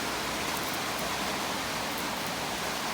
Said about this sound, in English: And it's still raining. Coming down pretty good.